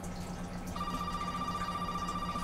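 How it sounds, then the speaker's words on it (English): A telephone rings in Resident Evil 7, a steady electronic ring that starts partway through over a low droning game ambience, with no talking. "Phone."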